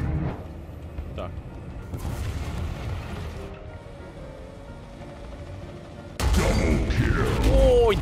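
Gunfire and explosions from the War Thunder combat game, with bursts and booms in the first seconds and a louder, denser barrage of blasts and whining mechanical noise toward the end, over a steady rumble.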